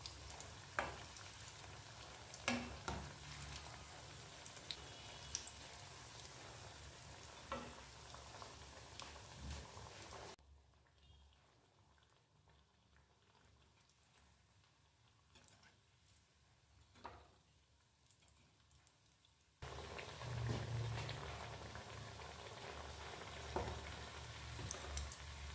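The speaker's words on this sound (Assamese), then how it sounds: "ইফালে অকণমান টাইম ভজাৰ পিছত কাটলেটকেইটা মই ওলটাই দিলোঁ।" Raw banana cutlets fry in oil on a griddle over a medium flame, giving a steady close sizzle with crackling pops. The sizzle drops to a faint hush midway, then returns loud.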